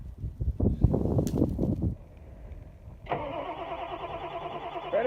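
A truck fitted with a new starter cranks in a loud, rapid chugging burst, goes quiet for about a second, then catches and settles into a steady, even idle.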